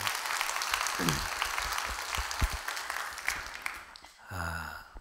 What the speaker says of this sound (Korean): 여러분 큰 박수 한번 해주셔요